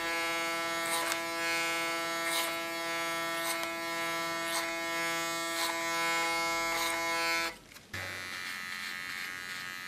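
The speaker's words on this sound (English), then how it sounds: "with a small clipper I clean the contour" An electric hair clipper hums steadily close by while trimming hair, its buzz pulsing rhythmically with each pass, then cuts out abruptly near the end, leaving quieter room sound.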